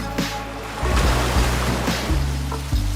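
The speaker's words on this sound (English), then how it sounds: "Soft sounds of the ocean with waves lightly crashing by lower your cortisol levels." Ocean waves wash and break lightly on the shore, a steady surging rush with soft swells rising and falling, close and moderately loud with no voices.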